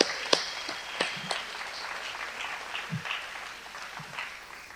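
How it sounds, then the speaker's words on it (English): Scattered applause for performers at a Juneteenth commemoration, thin and fairly quiet, with a few sharper individual claps and faint crowd noise beneath. "Let's give them a round of applause."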